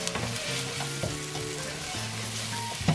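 Mutton fries in a hot pot while being stirred with homemade degi korma masala and salt, a dense continuous sizzle broken by several close, loud scraping stir strokes, with no voices.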